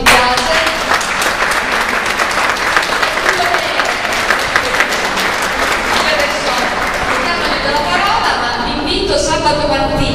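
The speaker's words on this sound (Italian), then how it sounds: "quindi un applauso a Lucio Di Biase." Loud, sustained audience applause at a music event with a school choir, dense clapping filling the whole ten seconds without a break.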